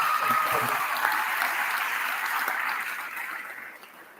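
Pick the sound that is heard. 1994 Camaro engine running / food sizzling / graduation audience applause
graduation audience applause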